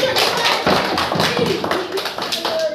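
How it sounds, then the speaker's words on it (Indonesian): A classroom of fifth-grade students claps for a classmate, a steady patter of many small hands heard close by, mixed with faint voices throughout. "Beri tepuk tangan"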